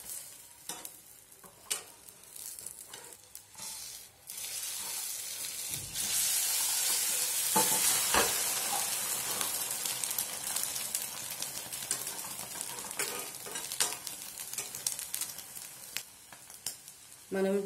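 Eggs and potato sizzle in a pan while being stirred and turned, with scraping and clinking strokes. The frying grows into a louder, steady hiss partway through, with no talk.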